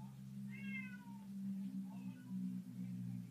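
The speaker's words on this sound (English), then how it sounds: "That's just my cat" A house cat meows a few times in a room, faint and fairly close, over a steady low electrical hum.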